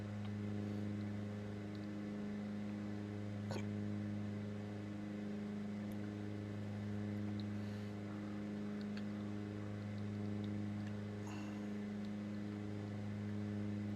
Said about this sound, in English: Sorry for all the engine noise, guys. The car is straining a little bit with the traction.